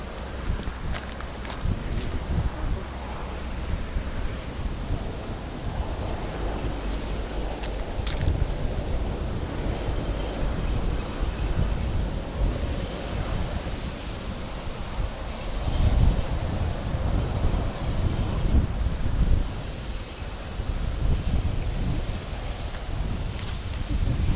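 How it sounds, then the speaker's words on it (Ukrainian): Blustery wind buffets the microphone in a constant low roar on a Dniester riverbank, with gusts swelling and easing over a long stretch and faint rustling underneath. "Дуже сильний вітер"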